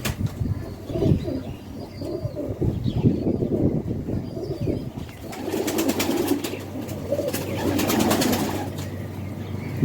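Racing pigeons from a 66 champion bloodline coo softly in a loft, low rolling calls repeating throughout, with a burst of wing flaps and chirps later on.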